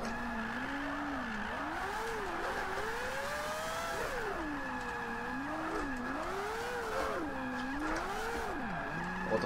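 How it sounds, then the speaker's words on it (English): Tyres spin and squeal continuously on a 690-horsepower, four-rotor Mazda MX-5 drift car in the racing video game Forza 5, the engine revving up and down in waves beneath the steady screech. "I'm never going to stop the tyres spinning."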